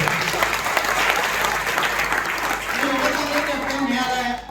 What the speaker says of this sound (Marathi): एकदा जोरदार टाळ्या प्लॅटफॉर्मवर